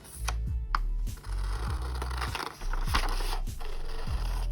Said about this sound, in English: You're gonna cut out these 2 circles.